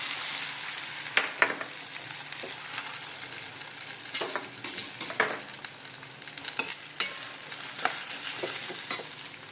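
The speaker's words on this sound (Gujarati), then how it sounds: "હવે આપણે એની અંદર બટેકા નાખી દઈએ" Potatoes frying in a pan with tomatoes and curry leaves, a low steady sizzle punctuated by repeated spatula scrapes and light clacks as everything is stirred.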